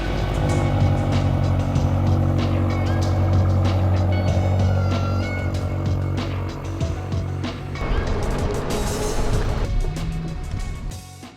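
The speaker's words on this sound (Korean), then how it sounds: "자 여러분 드디어 이 XM을 가지고 이제 스피디움에 들어가고 있습니다" A BMW XM drives into the Inje Speedium race track, its engine and road noise steady and close throughout, with brief clicks and mechanical ticks rising toward the end.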